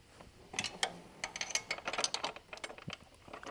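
A 10 mm ratchet wrench clicks while a PCV valve is refitted on a Duramax LML engine, giving a run of quick, close metallic ratcheting ticks and clinks of moderate loudness with no talking.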